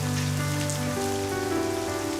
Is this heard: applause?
no